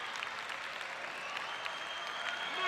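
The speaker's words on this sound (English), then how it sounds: "The crowd definitely going to show their appreciation now for Manon Valentino." Crowd applause and cheering for BMX rider Manon Valentino at a 2019 World Cup final round in France, a steady wash of clapping and cheers held at moderate loudness throughout.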